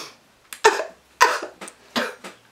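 A sick woman coughs several times in quick, close bursts, the last one softer.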